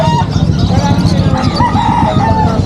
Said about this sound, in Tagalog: Ito manok oh